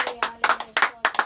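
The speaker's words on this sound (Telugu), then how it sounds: "అందరూ ఒక్కసారిగా చప్పట్లు కొడదాం" A church congregation claps hands in praise, about five sharp bursts of clapping in an uneven rhythm, moderately close and without talk.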